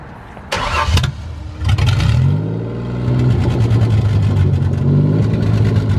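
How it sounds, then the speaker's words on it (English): A V6 drift car engine cranks with a couple of bursts, catches, then settles into a steady, loud idle with a low rumbling tone, close by. "we're in the drift car, and the V6 runs flawlessly"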